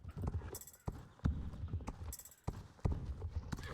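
Horse hooves in Star Stable Online, a slow, uneven clip-clop of soft thuds with a few sharper knocks, close and quiet, with no voices.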